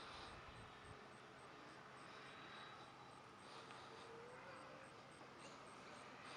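A Freewing MiG-29 RC jet passes low over the deck at full power, giving a steady, fairly faint electric ducted-fan rush with a high whine, heard alone.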